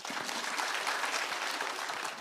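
An audience at a police security forum claps steadily for about two seconds, the dense applause staying even and moderately loud from start to finish.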